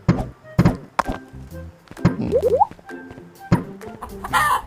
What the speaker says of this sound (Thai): ไก่ ไก่